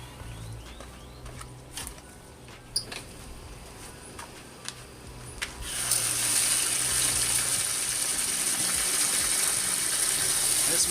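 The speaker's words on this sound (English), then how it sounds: "First I'm going to add some water." Soft clatter at first, then a steady rushing stream of water starts pouring into a 5-gallon bucket and continues evenly to the end.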